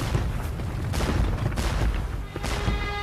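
Battle of Waterloo cannon artillery fire, a dense rolling barrage of booms and blasts overlapping into a continuous heavy rumble, loud and close, with no voices.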